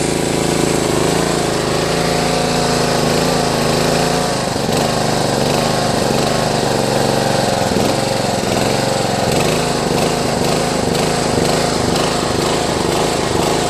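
A lawn tractor engine fed by an electric fuel pump runs loud and close, its drone surging and dipping unevenly in repeated waves with no voices over it.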